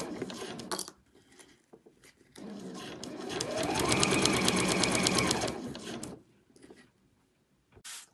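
Domestic sewing machine stitching binding onto a bag lining with a back stitch, running in a steady, close, rapid whirring burst of several seconds between brief short stitches and pauses.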